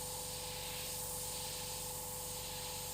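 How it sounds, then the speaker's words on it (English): An airbrush sprays paint at low pressure for mural work, a faint, continuous airy hiss with no pauses. "you really wanna keep the pressure down on the airbrush"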